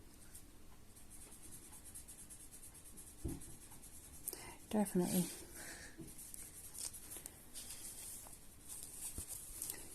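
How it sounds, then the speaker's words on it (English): Colouring pens scratching and tapping on paper, faint quick strokes in a quiet room, with a brief louder rustle midway and soft speech over it. "You can probably hear the pens from here."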